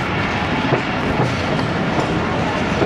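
A train pulling into Qila Sheikhupura Junction rumbles steadily from inside a coach, with broadband wheel noise and faint clatter running continuously from start to end.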